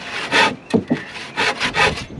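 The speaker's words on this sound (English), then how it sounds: "So we've got here a brand new bahco superior saw." A brand-new Bahco Superior 22-inch hand saw with 9 teeth per inch cuts through wood, giving several rasping push-and-pull strokes in an uneven rhythm, close and fairly loud.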